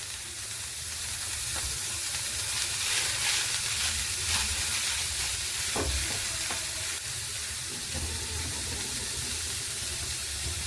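Grated potato sizzles and fries steadily in a hot pan, with soft stirring scrapes over a continuous hiss and no talking.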